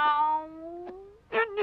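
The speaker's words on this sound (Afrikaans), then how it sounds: "Miauw." A cartoon cat in an Afrikaans-dubbed Pinocchio gives a close, drawn-out meow with a falling then rising pitch, followed by two shorter, sharper mews.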